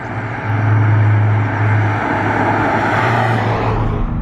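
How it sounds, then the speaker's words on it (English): A 2020 BMW M235i Gran Coupe drives at speed on an open national speed limit road, making a steady engine drone with a low hum and broad road and wind noise. The sound is continuous and fairly loud throughout. "I'm just going to give it a bit of a spirited drive on this national speed limit road"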